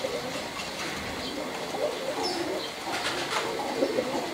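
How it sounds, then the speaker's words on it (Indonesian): Homing pigeons coo softly amid a busy loft, with low repeated coos, faint chirps and occasional wing movement over steady background noise. "Mick Jagger ini burung aneh nih"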